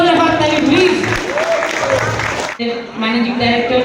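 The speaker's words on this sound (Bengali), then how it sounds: "সবাই একটা জোরে হাততালি প্লিজ" Applause from an audience at a creator fanfest in Purulia, a loud, dense clatter that runs for nearly four seconds with a brief dip, mixed with crowd noise and a tonal layer of voices or music.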